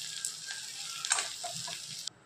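A short stretch of soft, steady sizzling of onions roasting in a pan, with light scraping as they are moved around before it cuts off.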